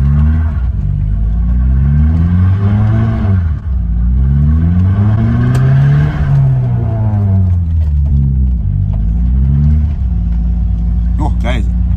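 A bagged BMW E30 spins its wheels on a wet, rainy road, the engine revving up and down in repeated rising and falling sweeps that sit loud and close, with the occasional clatter.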